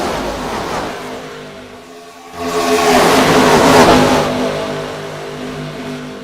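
Race car engines revving on a short-track oval at a fall brawl event, a loud roar that dips briefly then swells as the cars pass down the start-finish line, sustained and close.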